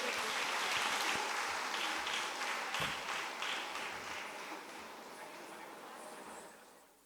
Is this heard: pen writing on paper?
no